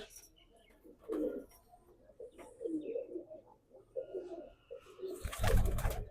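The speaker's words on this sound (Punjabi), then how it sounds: "ਇਹ ਕੁੰਡੀ ਵਾਲੇ ਕਬੂਤਰ ਮਸ਼ਹੂਰ ਹੋਏ ਨੇ" Kundi pigeons coo in repeated low, throaty bursts, fairly close and alone, ending in a louder rustling flutter of wings.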